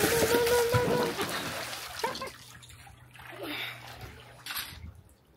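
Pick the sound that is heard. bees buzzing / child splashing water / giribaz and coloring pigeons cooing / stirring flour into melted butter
child splashing water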